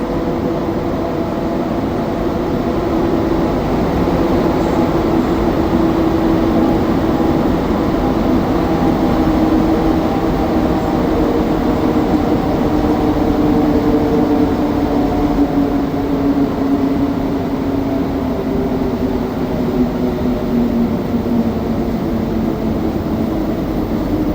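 Montreal Metro AZUR train, Set 70, riding the Orange Line at midnight, heard from inside as a steady loud rumble of wheels and motors with slowly shifting whine tones throughout, no voices.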